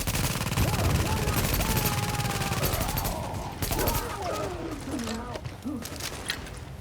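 Gunfire bursts in the online shooter game Tom Clancy's The Division, rapid automatic fire crackling loud and continuous at first, then thinning into scattered shots while players talk over it.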